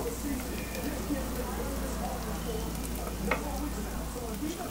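Garlic and shallots sizzle steadily in a hot pan, a continuous close frying hiss with a low hum underneath and occasional faint clicks from stirring.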